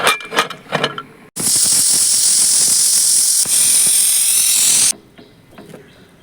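Pressure cooker on a farmhouse kitchen stove, cooking rice, lets out a loud sustained whistle with rushing, hissing steam for several seconds after some clinking, then cuts off abruptly.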